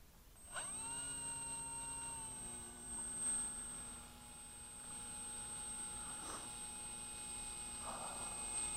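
The electric motor of a Flyzone Tidewater RC model seaplane whines as it spins up, holding a steady high-pitched drone with slight pitch shifts, close by and with no talk.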